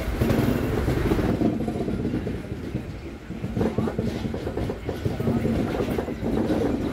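Godavari Express rolling on the rails with a steady low rumble and rhythmic clatter throughout, a loud continuous roar that dips briefly midway and keeps going.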